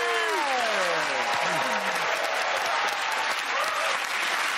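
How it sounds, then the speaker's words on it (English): Studio audience applause at a taped comedy panel show, a dense steady wash of clapping from a large crowd throughout, with a few voices briefly rising over it near the start. "Okay, again, that round of applause for the game,"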